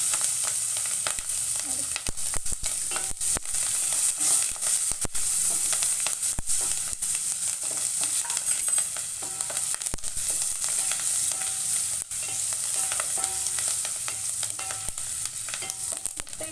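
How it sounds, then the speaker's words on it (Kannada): Green chillies and greens sizzle in tempering oil for a South Indian rasam, a loud, continuous frying hiss with frequent sharp crackles and spits, nobody speaking over it. "ಇಲ್ಲಿ ಸೊಪ್ಪು ಹಸಿಮೆಣಸಿನ್ಕಾಯಿ ನಾನು ಈಗ ಸೇರಿಸ್ತೀನಿ"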